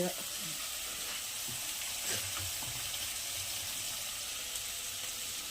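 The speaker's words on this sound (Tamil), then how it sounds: "அடுத்து இஞ்சி பூண்டு பேஸ்ட் போட்டு வதக்கு வதக்கிக்கிறோம்" Ginger garlic paste sautéing in a pan while cooking chicken biryani, a steady soft sizzle and fry hiss running throughout with a few faint stirring scrapes, close and moderately quiet.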